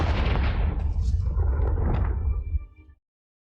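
A loud, heavy blast from the Confringo fire spell in Hogwarts Legacy, a booming burst with rumbling low end and crackling tail that holds for about two and a half seconds before cutting off abruptly.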